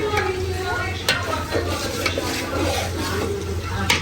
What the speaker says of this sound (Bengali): রোস্ট রান্না করার জন্য আমি মশলাগুলো কষাইতেছি